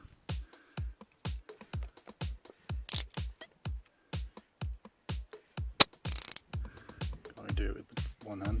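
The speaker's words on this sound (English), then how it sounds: "definitely recommend a 16mm ratchet spanner for the rear inside bolt" A 16mm ratchet spanner works a rear inside seat bolt during a bucket seat install in a BMW E46 330Ci coupe, giving a long run of quick, evenly spaced ratchet clicks up close, with a couple of sharper metallic knocks mixed in.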